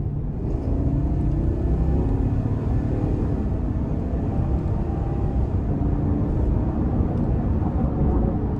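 A 2021 GMC Yukon XL Denali with the 6.2 V8 and 10-speed automatic accelerates under throttle, giving a steady, loud, low engine rumble heard from inside the cabin throughout.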